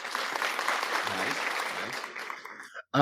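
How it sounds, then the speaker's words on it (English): Recorded applause plays as a steady patter of many hands for nearly three seconds, then cuts off abruptly with a brief different sound at the very end. "They got clapping."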